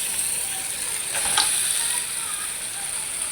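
Meat for biryani is tipped into a pan of fried, cooked-down spices, bringing a constant close sizzle with a brief swell of hissing midway.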